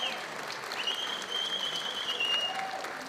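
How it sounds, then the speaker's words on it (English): A crowd applauds steadily for an arm wrestler at an East vs West 115kg right-arm match, a dense, even wash of clapping with a faint whistle-like tone running through it. "What about a round of applause for this guy?"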